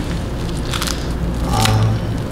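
A bite into a homemade crispy baguette bulgogi bake gives a short, close crackle and crunch of crust, followed by a low chewing rustle.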